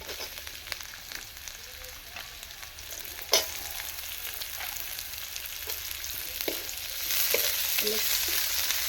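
Chopped onions and grated ginger fry in a pan for kachori filling, giving a soft continuous sizzle with occasional sharper clicks and stirring scrapes, fairly quiet and with no talking.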